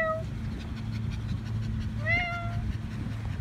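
Two short meows, people imitating a cat, sound against a low, steady hum, one at the start and a longer, rising one about two seconds later.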